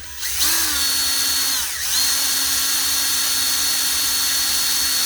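A power drill spins a 1:25 scale MPC 1969 Dodge Charger model car part against 220 grit sandpaper, a steady loud whine with a rising pitch at the start and a brief dip near two seconds, then continuous sanding hum.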